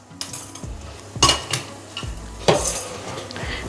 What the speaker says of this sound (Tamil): இதில் சாம்பாருக்கு வதக்கிக்கிறேன்